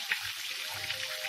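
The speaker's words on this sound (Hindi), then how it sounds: "दोबारा से इसको एक दफ़ा 5 मिनट के लिए फ्राई करेंगे" Chicken being fried a second time in hot oil for crispy fried chicken, heard as a faint, soft crackling sizzle with light popping, close and without talk.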